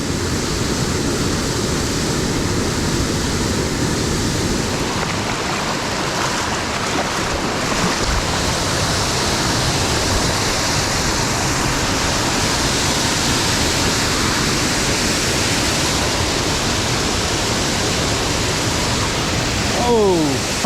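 A waterfall on a Pennsylvania mountain stream, heard in the rain as a steady, loud broadband rush of falling water that holds even throughout with no voices.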